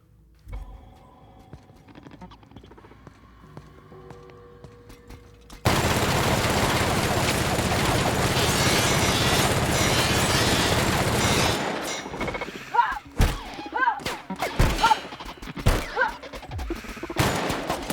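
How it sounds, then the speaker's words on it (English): Sustained automatic assault rifle fire in The Outer Worlds, a loud continuous burst lasting several seconds that then breaks into scattered single shots and impacts, with quieter game ambience before it. "What kind of rifle am I currently using? Assault rifle."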